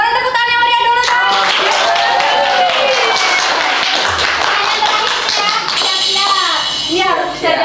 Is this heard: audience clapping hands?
yes